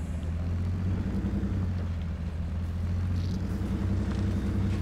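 A truck engine in MudRunner drives steadily on dry land, a low constant rumbling drone with a steady hum, loud and unbroken with no talking.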